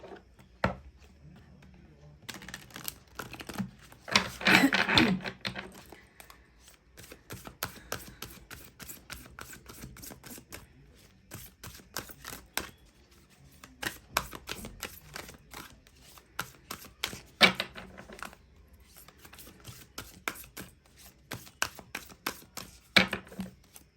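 Oracle cards being shuffled by hand and drawn, rapid papery riffling in bursts with pauses between them, close and fairly quiet, with a faint voice now and then.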